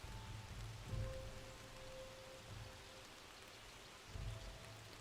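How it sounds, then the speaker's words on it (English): Rain falling in the game Among Trees, a steady soft hiss of drops on the ground with low thumps and a faint tone in the background, fairly quiet and continuous with no talking. "oh, it started to rain"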